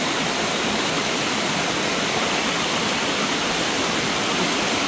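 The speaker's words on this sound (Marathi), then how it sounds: "पाणी पडतं खाली तिकडनं बाजूला बरोबर" Water falls at Kondhane caves, a constant, loud, hissing rush of a waterfall that stays unbroken and even from start to finish.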